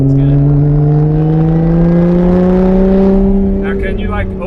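A supercharged Lotus Evora 400 engine revs hard and close, its rising whine and steady harmonic climb filling the clip before easing slightly near the end.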